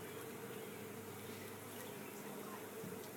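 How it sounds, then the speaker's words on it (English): Honeybees fan their wings at the hive to spread pheromone, a faint continuous buzzing hum close by with no talk. "the wings flapping right there"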